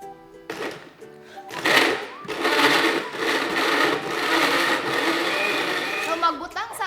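A blender churns jackfruit with ice, a loud sustained whirring grind that starts after a brief pause and runs continuously, with chunks rattling against the jar.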